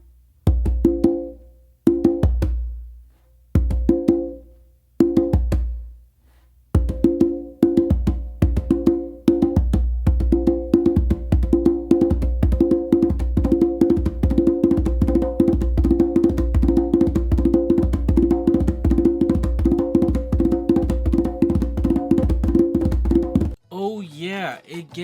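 A full conga bass tone exercise: a few spaced pairs of deep, resonant strokes, then a long, rapid and even stream of bass hits, loud and close, with a brief voice at the end.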